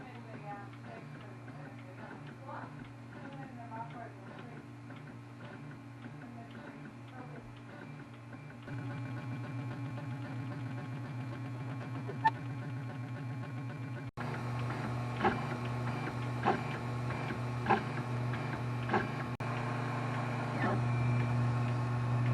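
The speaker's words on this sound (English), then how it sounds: "you guys can sit and watch the 3D printer make that" A 3D printer runs through a print job, its stepper motors giving a steady mechanical hum with repeated ticks and clicks that change character partway through, fairly quiet and with no talk over it.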